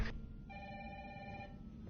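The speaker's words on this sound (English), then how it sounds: "seems like a phone call" Telephone bell ringing in the Resident Evil 3 Remake game on PS4, a steady electronic ring lasting under two seconds, fairly quiet and heard alone.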